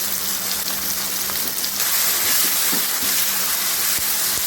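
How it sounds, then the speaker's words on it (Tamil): Ginger, garlic and green chili paste sautéing in a pan for a spicy crab gravy, a steady close sizzle and hiss with soft crackles running throughout. "பூண்டோட நல்லா பச்சை வாசனை போட வரைக்கும் நல்லா வதக்கிக்கலாம்"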